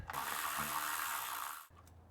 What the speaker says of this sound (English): Now we'll get the rest of the bolts. They're all just 10 millimeter.